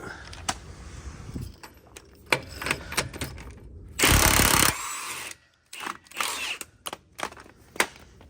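A single loud burst of an impact wrench rattling for about a second, removing a 22 mm bolt during a suspension job on a 2014-2018 GM crew cab truck, amid clanks and clicks of tools nearby.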